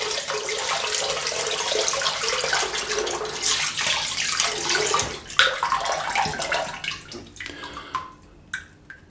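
Hot water runs from a tap to warm an Aylsworth Apex safety razor, a steady close splashing rush that becomes choppy and tapers off into a few drips near the end, with no talking.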